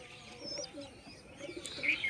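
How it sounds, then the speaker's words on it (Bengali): Pigeons in and around a cage, with a newly arrived bird among them, give soft low cooing calls and a few higher chirps, close by and continuous over a faint background. "ওখানে অন্য পায়রা ঢুকেছে দেখুন বন্ধুরা"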